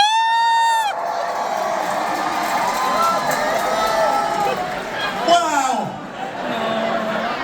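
A comedy-show audience in a Seattle theatre lets out a sustained, loud roar of cheering and shouting that fills the room for several seconds after a brief voice at the start.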